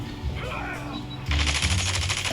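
Rapid automatic gunfire in a shooter video game, loud and close, a dense burst of rattling shots kicking in halfway through after softer game sounds.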